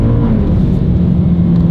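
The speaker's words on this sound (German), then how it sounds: "Ein paar Gasstöße" Car engine in snow, given short throttle bursts while the wheels spin in place: a loud, close, low droning whir that rises and falls slightly and holds steady for the whole stretch.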